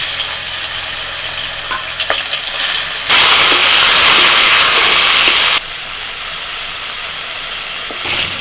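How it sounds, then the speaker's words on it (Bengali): Prawns frying in oil in a wok crackle and sizzle close up, with a sudden louder burst of hissing in the middle before it settles back to a steadier fry and faint clinks. "কড়াই তেল দিয়ে মাছগুলো ভেজে নিচ্ছি।"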